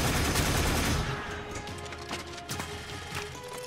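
Turrets firing in Warframe: a loud, noisy blast opens, then repeated sharp gunfire cracks rattle at a steady pace amid a humming game soundscape.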